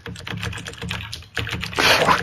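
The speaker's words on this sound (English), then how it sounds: "Stop ramming your keyboard over there." A computer keyboard is typed on hard during a modded World at War zombies game, with rapid, loud, clattering keystrokes close to the microphone and faint game sound underneath.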